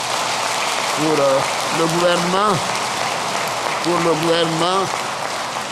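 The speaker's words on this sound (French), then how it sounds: "Et je crois que cela mérite vraiment des applaudissements" An audience claps in a continuous patter of applause during a presidential speech to the nation in Côte d'Ivoire, while someone speaks French over it in two short bursts.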